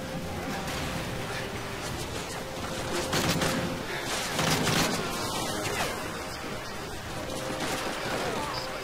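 Dense, continuous gunfire in Modern Warfare 3, rapid overlapping shots and bursts with loud cracks through the middle, with faint voices in the background.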